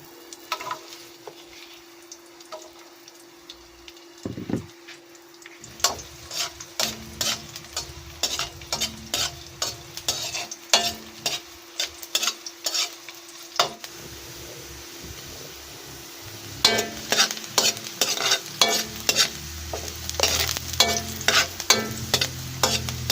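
Onion and garlic sauté in a little hot oil, with a soft sizzle under repeated sharp spatula clicks and scrapes that grow busier and louder toward the end.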